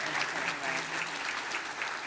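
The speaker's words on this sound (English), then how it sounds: "I want to have a round of applause" An audience at a festival opening keynote conversation gives a steady round of applause, continuous clapping at even loudness throughout without any talk over it.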